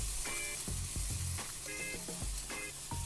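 Apple cinnamon French toast sizzles steadily in a frying pan, a close, continuous crackle with occasional utensil clinks and scrapes over the hiss.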